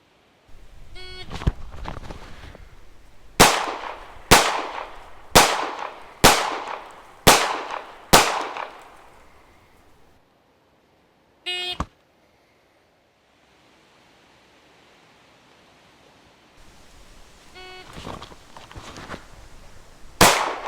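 A shot timer beep is followed by pistol fire from a CS9 or Glock 43 on a zombie target drill: a quick string of six loud, evenly spaced shots, a lone shot after a pause, then more fire at the end.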